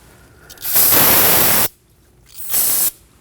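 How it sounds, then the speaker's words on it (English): Brake parts cleaner sprayed on the rear brake caliper area of a 2011-2012 Kia Optima: two close aerosol bursts of strong hiss, the first longer at about a second, the second shorter after a brief pause. "Using some brake parts cleaner, we're gonna spray the area just to get rid of any of the fluid."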